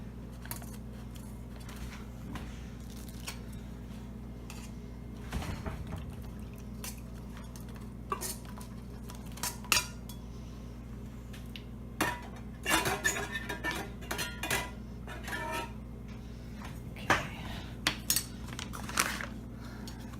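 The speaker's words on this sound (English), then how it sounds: "I have browned the Spam in my little titanium pot. Now I will add it." Browned Spam is spooned into a small titanium backpacking pot for mac and cheese, giving scattered light metallic clinks, taps and scrapes against the pot, fairly quiet and close, over a low steady hum with no talking.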